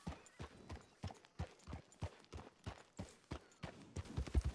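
Hooves of a ridden horse in a video game thud in a steady, even gallop rhythm, about two beats per second, clear and alone.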